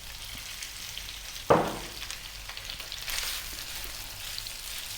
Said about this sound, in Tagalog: lulutuin ko lang yung ating ground pork ng mga 5 minutes